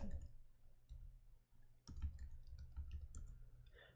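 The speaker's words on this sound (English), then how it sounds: "I'm going to type it" Typing on a keyboard: quiet, irregular clusters of sharp key clicks with short pauses between bursts, close and faint, no talking.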